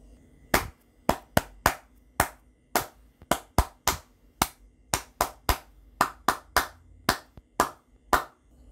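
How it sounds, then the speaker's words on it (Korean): A single person claps out the rhythm of the Korean children's song Three Bears (곰 세 마리), a steady series of about twenty sharp, close hand claps in an uneven sung-melody pattern, with no voices. "박수로 쳐드렸던 이 곡은 곰새마리라는 동요였습니다"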